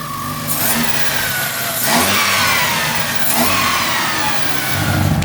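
An Opel Astra engine runs for the first time in nearly two years, a steady mid-pitched rumble up close with a few light revs swelling and falling back.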